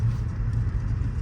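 Mahindra XUV 3XO SUV pulling hard under acceleration, a steady low engine and road rumble filling the whole short stretch at an even, fairly loud level with no voices.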